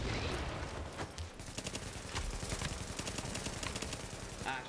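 Hip-fired automatic gunfire in The Division, a continuous rattling stream of shots for several seconds, loud and close, with a voice talking briefly underneath.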